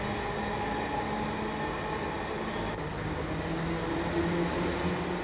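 Very old subway train cars run through an underground tunnel, a loud, steady rumble of wheels and carriages with a faint rising squeal toward the end, without any talk.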